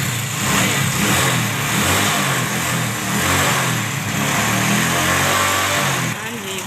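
Motorcycle engine starting and revving in a home setting, a loud continuous mid-pitched engine drone with a slight rise and fall in revs, ending in a drop near the close.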